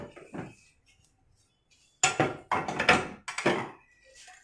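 Nonstick frying pans and cookware are handled in a shop, giving a few close metallic clanks and clinks, one soft knock early, then a cluster of sharper rattling contacts after a quiet pause.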